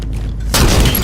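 In a Halo 5 Infection match, a sudden loud gunshot boom cuts in after a half second of quieter game ambience, its heavy blast and rumble filling the rest of the moment.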